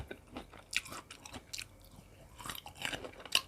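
Someone chews candied tamarind from a large, long pod, with close, quiet, irregular bites and soft wet chewing alone.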